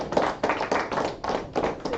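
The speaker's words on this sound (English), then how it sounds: "So clap it up the Most High." A congregation at a Feast of Unleavened Bread closing gathering claps in short bursts, several rhythmic clusters of hand claps close and moderately loud with no talking.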